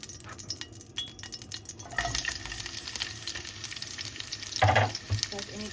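Onions tossed into a hot pan for squid adobo start sizzling loudly after a quieter start, with a steady crackling fry and a brief louder burst near the end, and no voices.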